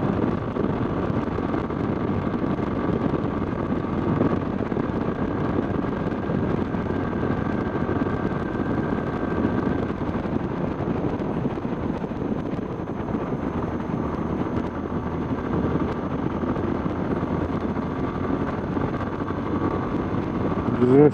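A Yamaha Fazer 250 motorcycle cruising along highway SP95 in calm, dry weather, its steady engine drone blended with heavy rushing wind noise at a constant level throughout, with no talking.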